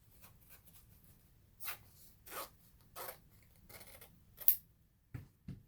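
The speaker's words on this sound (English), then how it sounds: "I'm going to slip my scissors down that little fold" Quiet, intermittent snipping of scissors through the folded fabric of a face mask, several short cuts spaced about a second apart over a low background hum.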